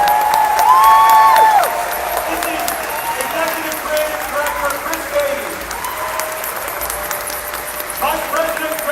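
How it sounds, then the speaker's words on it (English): Steady applause from a large audience at a Star Wars Celebration panel on Star Wars Land fills the room while someone speaks over it through a loudspeaker. "Please join me in giving them a huge round of applause."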